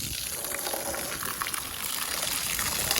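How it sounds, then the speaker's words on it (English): Water spraying to rinse the running boards of a Chevy Tahoe truck, a steady hissing gush that stays close and constant. "Now I'm rinsing them off."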